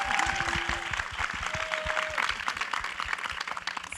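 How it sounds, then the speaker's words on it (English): A panel audience gives a round of applause, a fairly quiet spread of scattered clapping that continues steadily from a moderate distance. "Give him a round of applause."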